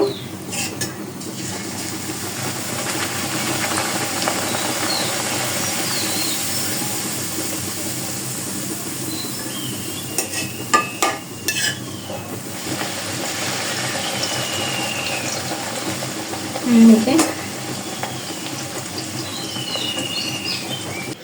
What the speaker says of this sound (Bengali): এভাবে সবগুলো ভেজে নেব